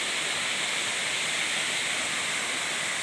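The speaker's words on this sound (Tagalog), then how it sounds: "Kaunayan Falls, San Luis, Aurora." Kaunayan Falls in San Luis, Aurora, gives a steady, dense rush of falling water with a bright hissing spray, constant and fairly close, with no voices.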